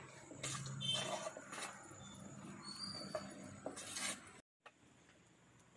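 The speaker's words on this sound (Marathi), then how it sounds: "तेल तापलेलं आहे. त्याच्यात कांदा घालूया. दोन मिनिटं असं परतून घेऊया." Onions sautéing in hot oil in a pan for a Goan prawn curry: a soft, close sizzle with scattered spoon scrapes and clinks, fairly faint, with a brief dropout near the end.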